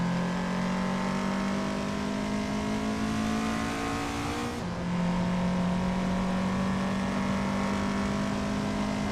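Race car engines in a racing video game hold a steady, loud whine that shifts pitch midway as gears change, continuous and without talking.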